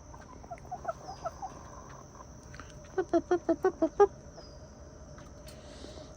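Hens cluck in a quiet run, with scattered soft clucks early on and then a quick burst of about seven evenly spaced, louder clucks close by.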